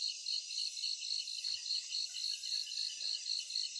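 A cicada buzzes in the Amazon rainforest, a shrill, continuous, high-pitched drone that pulses in a steady rhythm, with a couple of faint soft thumps in the background.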